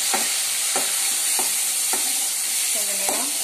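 Tomatoes sizzle and fry in a pan for an okra tamarind curry, with a steady close hiss and regular scrapes and stirs of a spoon about every half second.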